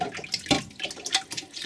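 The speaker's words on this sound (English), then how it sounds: "I actually like to still run clean water" Clean tap water runs over the parts of an Omega NC800 HDS 5th Generation juicer as they are rinsed, a close, uneven splashing stream with no talk.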